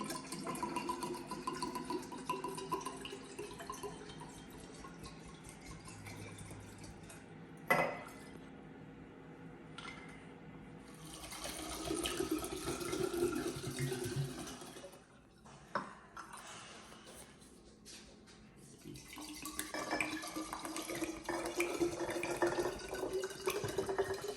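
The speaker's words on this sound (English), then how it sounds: "So now we're filling up the bottles for the machine." Vodka and other liquids are poured into the bottles of a Bartesian cocktail machine, with faint trickling and dripping, scattered glassy clinks and knocks, and a few louder clunks in a quiet kitchen.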